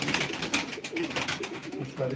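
Pigeons coo softly and flutter among steady chatter from people at a live pigeon auction, the birds faint and intermittent beneath the talking.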